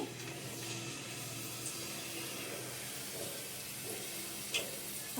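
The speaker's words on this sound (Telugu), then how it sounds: "ఇప్పుడు మనకు ఆయిల్ అనేది హీట్ ఎక్కిందో లేదో చూద్దాము ఒక్క పీస్ వేసి" A single potato slice drops into hot oil to test its heat while homemade chips are being made. A soft, steady sizzling hiss continues throughout, with a few faint pops.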